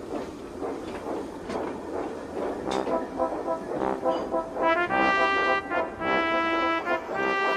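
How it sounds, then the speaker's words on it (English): Tomy toy steam engine train running along its track, with a soft rhythmic chugging and clatter followed by a whistle-like tonal hoot, moderately close, with some talk early on. "So he puffed slowly and carefully back down the steep track."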